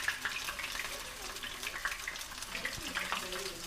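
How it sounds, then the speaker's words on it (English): Clams frying in hot oil give off a steady, faint, broadband sizzle with small crackles and pops throughout, heard close up with no voices. "our clams. And they're gonna sizzle up"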